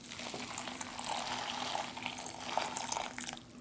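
Water pours steadily into a Swedish 24-hour freeze-dried ration breakfast pouch of wheat flakes with apple, raisin, apricot and peach, a soft continuous trickle that thins out near the end.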